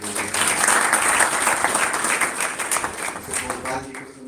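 Dense, sustained audience applause rings out at a gathering in a hall, loud and steady for several seconds before tapering slightly, with no voices over it.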